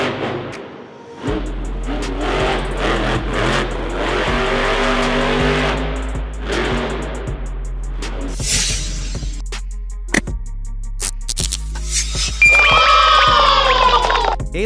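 The Earthshaker monster truck's big engine roars loud and close, rising and falling through revs, with brief high squeals near the end and no talk over it.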